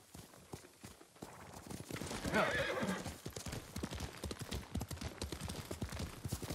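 In Ghost of Tsushima, a horse's hooves clip-clop steadily and loudly while the horse lets out a rising whinny partway through, with game ambience around it.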